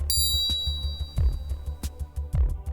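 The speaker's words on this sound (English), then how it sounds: "As you can tell, the MP52 has a much longer and richer sound." A Mizuno MP52 GrainFlow forged golf iron strikes a ball with a sharp metallic click whose bright, ringing tone lingers, backed by a rhythmic low pulsing in the background and faint further taps.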